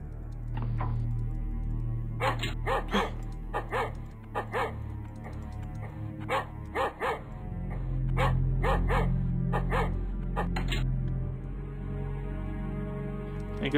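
Cartoon dog barking in the flash point-and-click game Dr. Stanley's House, a series of sharp, repeated barks in short bursts over a steady low game background hum, loud and close with no talking.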